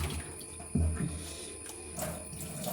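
Vegetables being washed under a running kitchen tap, a steady faint stream of water with a few soft splashes and knocks.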